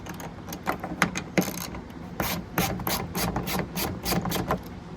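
A ratchet wrench clicks as 10mm bolts are removed from a panel. Rapid bursts of ratcheting rasp and pause unevenly throughout, close and moderately loud, with no talking.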